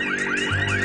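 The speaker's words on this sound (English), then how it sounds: "Bloody car alarm." A car alarm going off, a loud continuous rising and falling electronic siren wail, heard alone at close range.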